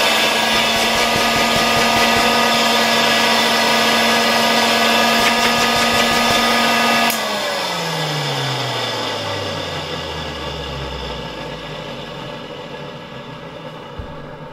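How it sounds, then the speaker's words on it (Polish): A 1958 East German Omega type 1064 vacuum cleaner motor with worn bearings runs with a steady high whine, then switches off and winds down, its pitch sliding lower as it coasts toward a stop. "ewidentnie słychać, zwłaszcza już później, jak ten silnik zaczyna zwalniać, że łożyska będą do wymiany"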